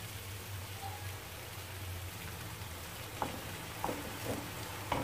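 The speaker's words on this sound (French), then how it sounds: "Je mélange le tout et je stoppe la cuisson." A spoon stirs fresh coriander and mint into a semolina filling in a pan, giving a soft steady sizzle with a few quiet scraping knocks toward the end.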